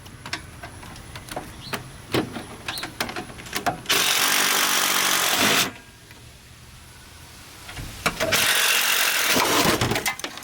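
A power tool whirs loudly in two sustained bursts, separated by a quieter stretch of clicks and small mechanical noises.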